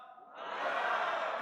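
Church congregation in a Korean sermon shouting together on cue, a loud sustained collective roar that swells after a quiet start and holds steady to the end.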